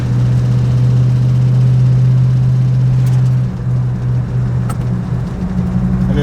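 A classic car engine runs loud and close with a steady low drone, then dips slightly as the automatic transmission shifts up through its gears.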